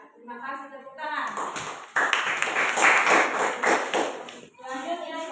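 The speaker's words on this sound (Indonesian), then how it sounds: "Ya, terima kasih, tepuk tangan." A classroom audience of students claps after a group presentation in a school teaching session, a dense patter of hands lasting a few seconds with voices talking at the start and end.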